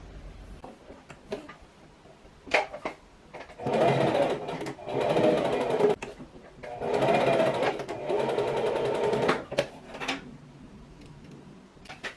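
A sewing machine stitches a seam on a mini dress in two sustained runs of rapid mechanical whirring, close and clear, separated by short pauses with small clicks and fabric handling.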